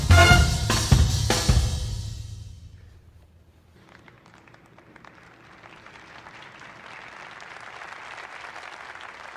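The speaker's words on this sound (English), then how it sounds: "As the audience gives a hesitant clap" A concert audience in the film Whiplash gives a loud burst of clapping that fades out within a few seconds, leaving a quiet, hissy room tone with faint rustling.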